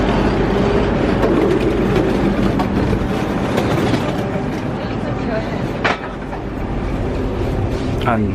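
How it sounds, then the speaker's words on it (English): Aboard a Eurostar train running on rails, a dense, steady rumble of wheels and carriage noise fills the space continuously at fairly high level, with occasional small knocks. "And now we're on the Eurostar."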